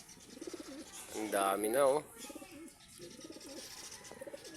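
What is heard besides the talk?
breeder pigeons cooing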